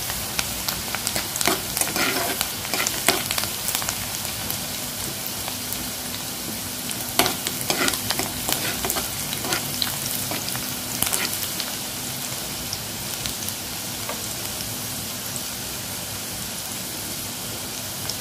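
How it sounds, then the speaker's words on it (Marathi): Onion sautéing in oil over a medium flame, a continuous crackling sizzle like light rain, with scattered louder pops and stirring clicks throughout, no talking. "कांदा आपल्याला ट्रान्सपरंट होईपर्यंतच परतायचा आहे आणि गॅस आपण मीडियम फ्लेमवरती ठेवणार आहोत"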